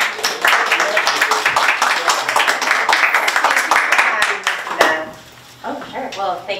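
A crowd claps at a community arts event, dense and sustained for several seconds before tapering off, with a voice starting to speak near the end as the clapping fades.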